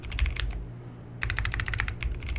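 Brisk typing on a computer keyboard, close and clear, with quick clusters of key clicks, a short pause, then a faster burst of keystrokes with no talking.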